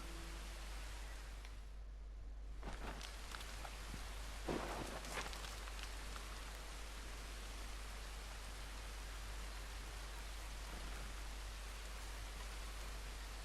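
Steady rain in Red Dead Redemption 2 hisses continuously, soft and even, with a few brief louder crackles early on.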